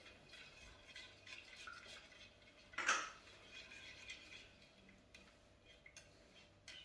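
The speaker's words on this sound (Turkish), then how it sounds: "Sosumuzu bir güzel karıştırıyoruz" A spoon stirs İskender sauce seasoned with red pepper flakes and dried basil in a pot, giving soft scraping swirls with one sharper clink of metal against the pan, close and quiet.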